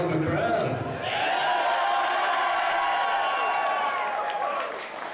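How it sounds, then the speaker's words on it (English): A large wrestling crowd cheering and roaring in an arena, a loud sustained swell of voices and whoops that fills the whole stretch, easing slightly near the end. "This is a hell of a crowd."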